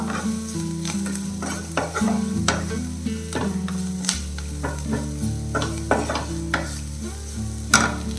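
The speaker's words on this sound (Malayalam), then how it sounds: "ഇതെല്ലാം കൂടെ ഇട്ടിട്ട് ഒന്ന് മിക്സ് ചെയ്യാം" Spice powders frying in a pan with spring onion on a lowered flame, a steady sizzle broken by repeated scraping stirs of a spoon against the pan, close and clear with no talk.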